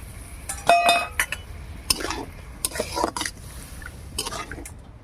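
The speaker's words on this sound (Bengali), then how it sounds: "এবার এর মধ্যে সর্ষে বাটাটা ঢেলে দেবো।" Ground mustard paste being poured and stirred into a cooking pan with fish, aubergine and lentil dumplings, heard as close scraping and clinking of a spoon against metal with a soft wet sizzle.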